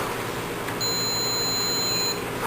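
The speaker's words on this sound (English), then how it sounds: "use a multimeter to check for continuity between the green ground wire on the protector and the metal" A steady electronic tone from a multimeter's continuity check sounds for about a second and a half, testing the green ground wire on a protector against its metal casing, over a low background hiss.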